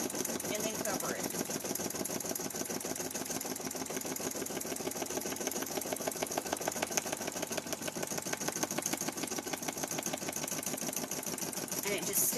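An embroidery machine stitches a feltie design onto stabilizer with a fast, steady mechanical rattle and thumping of the needle, close and continuous throughout.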